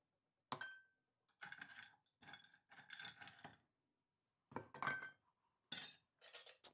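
Ice dropped into a glass and stirred while mixing a Yellow Chartreuse drink served down, giving scattered clinks and rattles in several short bursts with gaps of quiet between them.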